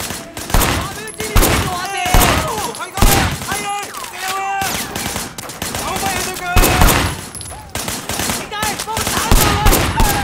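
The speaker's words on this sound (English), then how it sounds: "Shooting at the guys over there." Gunfire in the Sleeping Dogs: Definitive Edition video game: loud, dense bursts of rapid automatic shots repeating throughout, with music and talk mixed in beneath.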